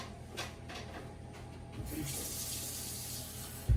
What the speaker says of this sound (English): I'm going to get a little bit of water